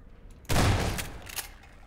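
A single heavy shotgun blast in a video game, sudden and loud, decaying over about a second with a faint echo afterward.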